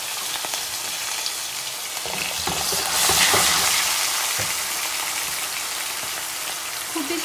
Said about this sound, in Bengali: আমি এখন একটা একটা করে আলু দিয়ে দিচ্ছি। আলুগুলো হালকা একটু ভেজে নেব